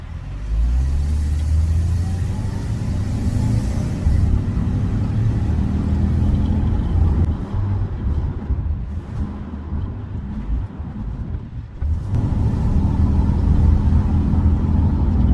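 A 2006 Honda Element with a slipping automatic transmission idles and pulls away after being shifted into drive, a close, steady low engine rumble from inside the car with a brief dip near the end.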